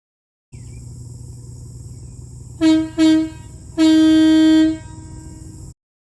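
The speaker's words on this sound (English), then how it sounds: "I'll give you a quick little honk or two." A loud semi truck air horn blasts twice in short honks, then once in a longer sustained blast, over a steady idling engine rumble.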